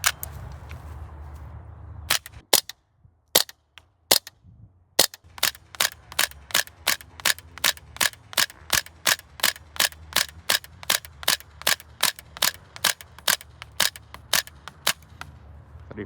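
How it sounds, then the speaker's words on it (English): Stratos MPX-K gas blowback airsoft SMG firing BBs at a target: a few separated single shots, then a long steady string of sharp, loud cracks with mechanical clacks, close by and without talk. "So we're gonna set up a target now and get shooting."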